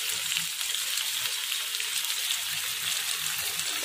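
Dried pork frying in a pan hisses loudly and evenly as water goes in, a dense, close sizzle that holds steady throughout.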